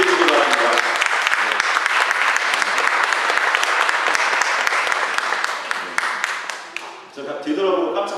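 A church congregation stands and applauds together in sustained, dense clapping for several seconds, then tapers off near the end.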